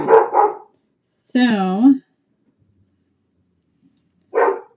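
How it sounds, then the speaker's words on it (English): A young dog barks at someone walking down the front street, giving a couple of close, loud barks and a drawn-out whiny yelp with gaps of silence between. "ignore my daughter's dog at the moment because she just wants to let us know somebody's walking down the front street"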